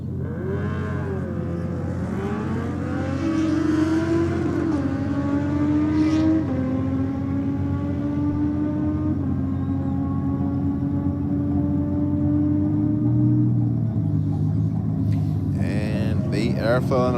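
Drag race cars roar down the strip at Sydney Dragway, a loud, sustained engine drone climbing in pitch as they accelerate, with a commentator talking over it.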